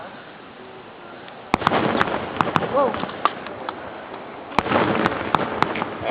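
Fireworks going off at a firework show: sharp, loud bangs at irregular intervals over a continuous rumbling crackle, with a bigger burst of several reports midway and a brief exclamation from a nearby person.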